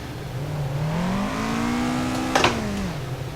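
Toyota AE86 in Assetto Corsa, its engine droning steadily while drifting, pitch climbing slowly then easing back down, with a brief burst of tire or gravel noise near the end; no talking.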